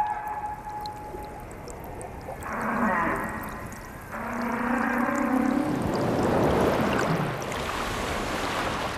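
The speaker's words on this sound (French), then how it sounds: "la communication par le chant chez les baleines à bosse" Humpback whale song underwater: long, low, drawn-out tonal notes and moans follow one another at moderate loudness over a steady wash of ocean noise.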